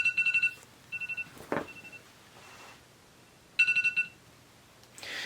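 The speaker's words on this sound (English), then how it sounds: "Just my alarm." An alarm goes off in short bursts of rapid electronic beeping, three separate volleys with quiet gaps between, fairly close and distinct, with a brief rustle and a soft noise in the pauses.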